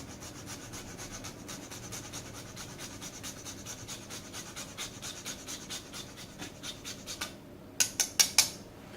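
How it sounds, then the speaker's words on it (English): Parmesan cheese is grated over a finished no-stir risotto, a quiet rhythmic rasping that repeats steadily and grows a little louder toward the end, with no talk. "grate a little bit of Parmesan"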